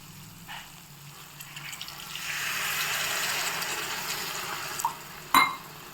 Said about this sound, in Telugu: బాయిల్ చేసుకొని వాటర్ వేసుకోవాలి